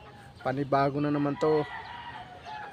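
Pet chickens clucking and crowing up close in a few loud bursts, with someone speaking briefly between the calls.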